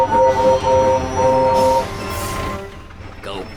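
Cartoon freight train from Thomas & Friends rolling past with its wagons, a loud steady rumble carrying sustained squealing tones for nearly two seconds before fading into a softer clatter, with voices nearby.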